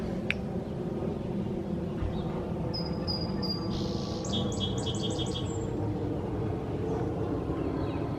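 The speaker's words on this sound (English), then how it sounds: "Can you hear the birds singing?" Small birds chirp and trill in short bursts over a steady outdoor background hum, fairly distant and light.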